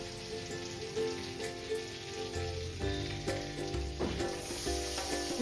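Chopped onion hitting a hot pan and frying, a loud, dense sizzle like rain on a surface, continuing steadily with a faint background hum.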